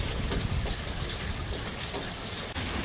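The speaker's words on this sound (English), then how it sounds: "Got water running down there, going all the way over here into my backyard." Storm water runs off across a backyard after overflowing a small culvert, a steady loud rushing and gushing wash that continues without pause and carries no voices.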